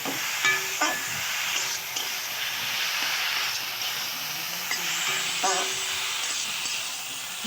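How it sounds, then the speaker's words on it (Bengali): Fried prawns with cucumber and a little sugar stirred together in a pan, giving a steady sizzling hiss with faint scraping stirs throughout. "এবার সেই ভাজা চিংড়ি মাছগুলো এর উপর দিলাম দিয়ে এটা একসঙ্গে ভালো করে নাড়বে"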